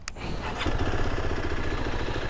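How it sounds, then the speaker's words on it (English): A ZONTES 350D motorcycle engine starting, a quick crank and catch followed by a deep, steady rumbling idle up close. "It has this nice deep growl that usually this classic kind of bikes is associated with."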